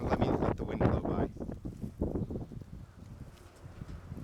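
Outdoor wind rushes past in a steady blustery roar, buffeting the microphone close up and then easing into a softer hiss.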